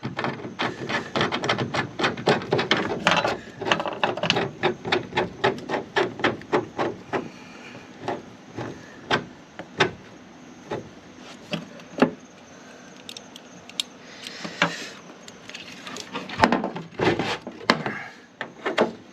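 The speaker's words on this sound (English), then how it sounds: "Allen wrench. Gotta tighten that screw." An Allen wrench tightens a screw on a wheel of a Decked truck-bed drawer system, giving a close series of sharp clicks, taps and scrapes, dense at first and then sparser and spaced out.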